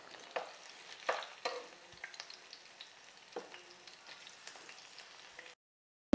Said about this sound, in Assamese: এনেকুৱা কালাৰ হোৱালৈকে মই ভাজি আছোঁ